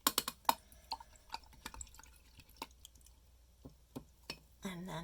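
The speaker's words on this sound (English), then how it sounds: "you're going to rinse all of the paint out of your wash brush" Paint-laden wash brush swished and rinsed in a cup of water, giving a run of soft watery clinks, drips and splashes at close range, ending with a brief sloshing burst.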